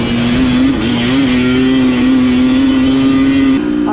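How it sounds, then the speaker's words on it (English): A two-stroke dirt bike engine runs loud and close at a high steady rev, holding a sustained buzzing drone with small pitch wobbles and a brief dip near the end. "this two-stroke is too loud. Like when it starts revving, it starts becoming way too loud"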